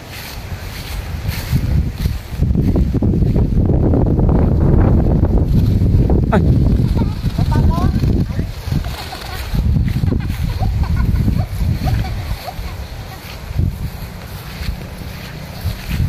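Strong wind blows during a kite flight, buffeting the microphone in heavy low rumbling surges that rise and fall in gusts, loudest early on and easing somewhat toward the end.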